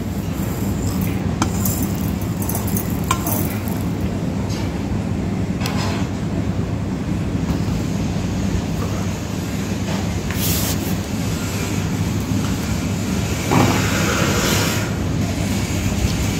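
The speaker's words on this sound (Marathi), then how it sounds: "आणि याला आता मिक्सरमध्ये वाटून घ्यायचं." A mixer grinder grinds roasted chickpeas with chilli powder, salt, turmeric, sugar and cumin, a loud continuous whirring drone with a rattling edge and brief shifts in pitch, heard without speech.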